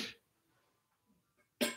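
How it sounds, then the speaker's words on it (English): A single short, sharp human sneeze bursts out at the end after near silence, with a softer breathy sound at the very start. "I feel like I'm going to sneeze."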